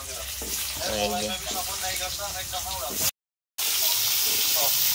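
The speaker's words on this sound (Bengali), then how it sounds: "এখন আলু আর এই যে গাজরটাকে ভালো করে ভেজে নিচ্ছে" Potatoes and carrots fry in a pan with a steady sizzling hiss. Stirring noises and a voice are heard over the frying, and the sizzle continues after a brief break in the sound.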